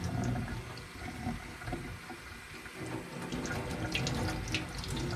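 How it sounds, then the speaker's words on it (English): Tap water runs steadily into a sink for rinsing makeup brushes, a continuous fairly soft splashing stream with no speech over it. "I'm just gonna waste the water because I have to rinse"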